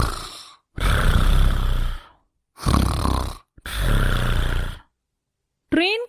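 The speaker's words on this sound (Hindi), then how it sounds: "खर्राटे मारकर सो रही होती है" A woman snores while asleep inside an air-conditioned train carriage, three long loud rasping snores with quiet pauses between them, ending with a brief tonal sound.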